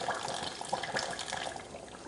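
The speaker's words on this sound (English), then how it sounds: "I'm going to pour each one of them about half because the pepper floats," Pickling liquid pours into jars of sausage, a soft continuous splashing and trickling of liquid, fairly quiet and close, with no talking.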